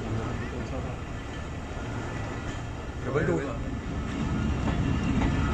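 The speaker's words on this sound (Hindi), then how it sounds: "गुलिस्तान रेलवे स्टेशन से 349 अब चमन पैसेंजर की रवानगी" Chaman Passenger train pulling out of Gulistan railway station, with a dense, continuous rumble of moving rail cars that swells slightly toward the end as voices talk nearby.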